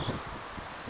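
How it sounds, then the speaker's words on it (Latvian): Gusty outdoor wind near the Kuldīga open-air stage in Latvia, a steady broadband rush buffeting the microphone, swelling at the start and end of the second. "Vējš!"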